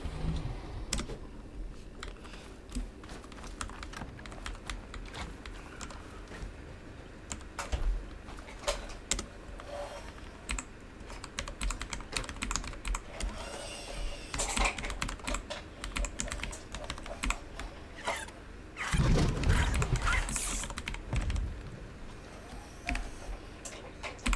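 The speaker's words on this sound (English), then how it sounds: "Oh gosh, my typing is terrible" Someone types rapidly on a computer keyboard, entering chat while playing Ark: Survival Ascended, with a continuous close clatter of key clicks for over twenty seconds and a heavier burst of strokes near the end, no voices.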